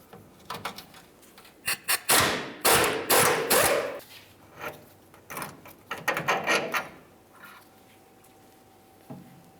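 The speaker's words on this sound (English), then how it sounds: "hold onto the shock and remove the bolt" Top mounting bolt of a rear shock absorber on a 2005-2010 Dodge Dakota being removed with an 18mm socket, heard as close metallic clanks, rattles and scraping knocks in uneven bursts, then fading to quiet with a faint hum.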